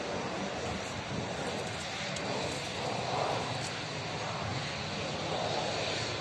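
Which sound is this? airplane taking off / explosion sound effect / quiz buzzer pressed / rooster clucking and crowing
airplane taking off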